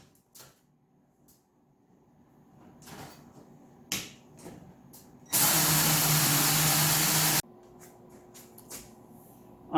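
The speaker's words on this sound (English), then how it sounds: "We're gonna start drilling next." A power drill whirs loudly for a few seconds after some quiet clicks and knocks, drilling mounting holes for a fan, then stops abruptly, leaving faint handling sounds.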